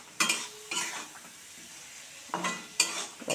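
Spice masala sizzles in hot oil as a spoon scrapes and stirs it in a pan, several sharp clinking strokes over a soft, continuous frying hiss.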